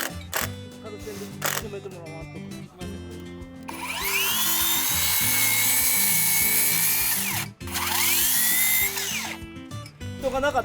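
A power driver screws wood trim from behind during a multi-day timber house raising by many carpenters, with long loud whirring bursts, a brief pause between them, and speech and site noise around them.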